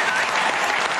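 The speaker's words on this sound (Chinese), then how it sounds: "掌声鼓励。" Studio audience on a Taiwanese variety talent show clapping together in a dense, bright burst of applause, brief and steady.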